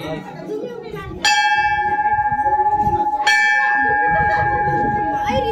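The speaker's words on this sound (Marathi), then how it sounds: "घंटा" A temple bell is struck twice, each strike ringing out with a long sustained metallic tone, while faint voices murmur in the background.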